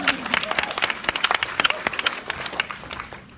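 A live audience at a large motivational rally claps in a dense, lively burst of applause, many hands overlapping in a steady roar that tapers slightly toward the end, with no talking on top.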